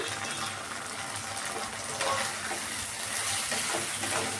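Cornflour-coated potato pieces sizzle steadily in hot white oil, a dense continuous hiss with faint stirring clatter, close and alone without voices.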